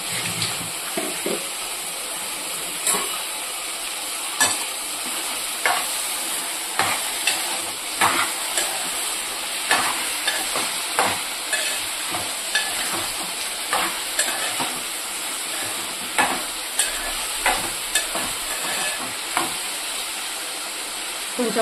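Tomatoes and drumstick pieces cook in a pan of masala for a drumstick tomato curry, giving a steady close sizzle broken by repeated scraping stirs that land every second or so.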